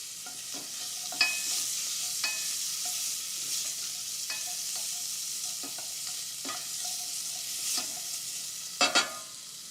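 Finely minced pancetta fries in a pan with a steady close hiss, broken by occasional stirring scrapes and light clicks.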